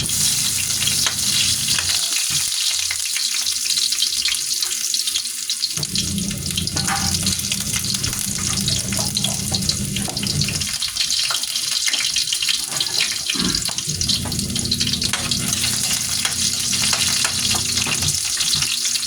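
Ginger and onion sizzle loudly in oil in a pan, a continuous hissing fry broken by bursts of stirring and scraping, with no talk.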